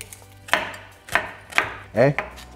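Knife chopping an onion on a board: four sharp, distinct cuts spaced roughly half a second apart, close and fairly loud, with no talking.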